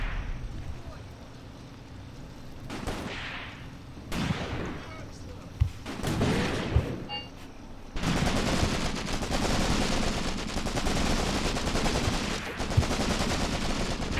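Gunfire in the WWII tactical war game Graviteam Tactics: Mius-Front, a Soviet campaign battle, with scattered single shots and distant booms, then a sustained roar of heavy machine-gun and artillery fire rattling on loudly.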